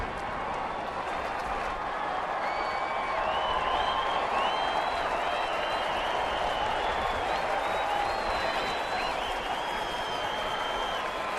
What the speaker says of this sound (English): Crowd's starting to percolate a bit down below.